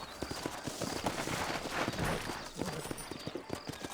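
Rapid clip-clop of horse hooves trotting close by in the video game Red Dead Redemption, a steady quick rhythm with a faint whinny mixed in.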